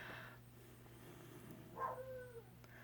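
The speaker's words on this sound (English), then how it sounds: "that was a different bark" A dog gives a single short, whiny bark partway through, mid-distance and moderately loud over a quiet room hum, preceded by a faint higher yelp at the start.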